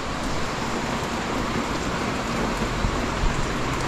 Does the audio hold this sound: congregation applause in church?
no